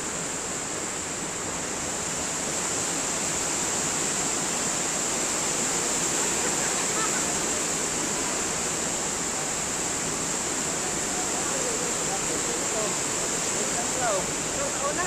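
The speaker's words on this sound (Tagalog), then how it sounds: "Ganda ang agos ng tubig." Water rushes steadily through a National Irrigation Administration irrigation channel, a dense, constant, loud roar with a faint high hiss, holding unbroken and close throughout.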